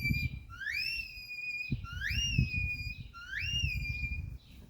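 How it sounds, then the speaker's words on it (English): Three rising, sharply swooping whistles of a herding dog's 'come by' command repeat at steady intervals over low background rumble, fairly close and clear. "I want them to hear that come by whistle 8, 9, 10 times"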